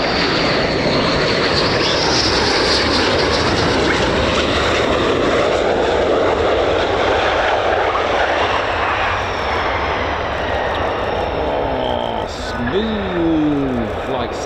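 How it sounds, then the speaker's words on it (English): An F-15 fighter jet passes low over RAF Lakenheath, its engine roar building into a loud, broad rushing thunder that slowly fades as it moves away, with voices talking underneath. "F-15s."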